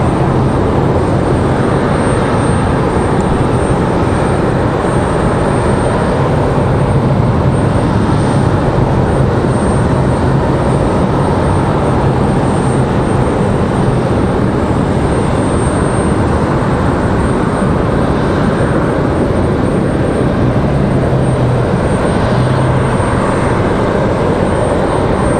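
Air Wisconsin airliner at Raleigh Durham airport, a loud continuous engine drone with steady broadband rumble and faint whine, holding evenly for the whole stretch without speech.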